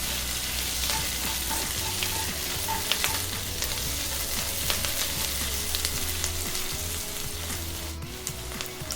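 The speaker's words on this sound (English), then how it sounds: "The garlic's cooked, we're just going to stir everything in together." Garlic and other ingredients for a Spanish chicken dish stirred and sizzling in a Dutch oven, a steady frying hiss with scattered scraping and clinks from the spoon, fairly close, no talking.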